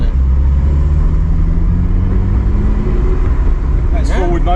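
A Ferrari 308 drives slowly after years off the road, its engine a loud, continuous low rumble with rising tones, and some brief rattling toward the end.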